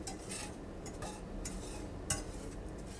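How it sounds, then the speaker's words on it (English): Metal utensils scrape and clink against a pan while cabbage is lifted out, a few soft clatters and one sharper knock over a faint background hiss, close and fairly quiet. "Now I'm removing the cabbage from the pan"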